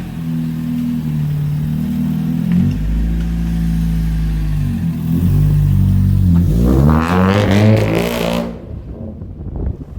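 A Honda Civic EG6 engine with traction control on revs in steady, held rising tones, then climbs hard into a loud, sharp rev near the end before cutting off abruptly.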